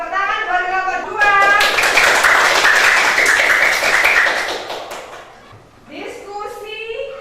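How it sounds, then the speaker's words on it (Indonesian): Students in an Indonesian classroom burst into loud, brisk group clapping for about four seconds, with a teacher talking before and after it. "tepuk tangan buat kelompok 2"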